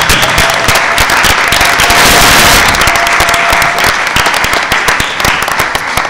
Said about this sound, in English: And can we give Mike a special round of applause?